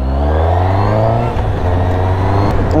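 A four-cylinder motorcycle, an A2-licence model, pulls hard on a road test ride. Its loud, close engine drones steadily and the revs climb and swell throughout.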